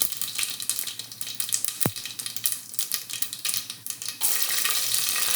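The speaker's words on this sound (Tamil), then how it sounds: "அதான் பொரியுது." Vegetables frying in hot oil in a pan for yellow pumpkin kootu, a steady close-up sizzle and crackle throughout, with one sharp brief splutter partway and the frying growing denser toward the end; no talking.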